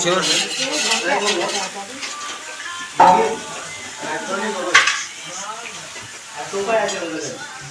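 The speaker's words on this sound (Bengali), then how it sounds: "আর এটা কি বিনস ভাজা হচ্ছে" Clattering pan and utensil stirring with a soft sizzle as beans fry, scraping sounds recurring throughout, with a voice speaking over it.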